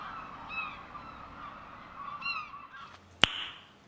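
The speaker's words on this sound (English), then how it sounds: "a group of birds decided to fly by" A group of birds flying past gives a few faint, distant honking calls over a quiet outdoor background, ending with a single sharp click near the end.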